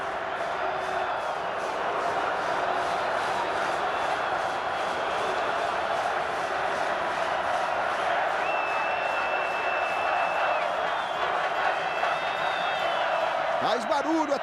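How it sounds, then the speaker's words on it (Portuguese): Flamengo supporters roar as a steady, dense crowd wash inside the stadium during a 2010 Brazilian league match against Cruzeiro, heard beneath a commentator's continuous talk. "Faz barulho a torcida rubro-negra."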